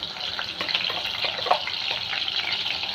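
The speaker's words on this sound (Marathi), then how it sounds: "ती वाटलेली लसणाची मिरची ती टाकूया आणि ही छान फ्राय करून घ्यायची आहे" Ground garlic and green chili paste fries in a pan with a steady, close, even sizzle and crackle that holds throughout without pause.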